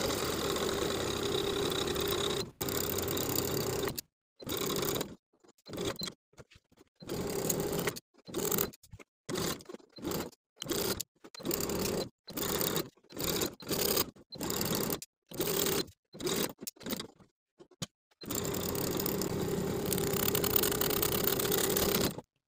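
A sewing machine edge stitches along the centre front of a shirt garment: a long steady run, then many short start-stop bursts with brief pauses, and another sustained run at the end, close and alone.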